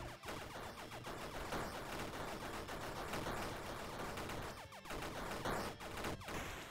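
Rapid volleys of arcade gunfire from multiple bullets in the Bad Caterpillar action game, a dense continuous stream of shots layered over busy game effects, steady and loud throughout.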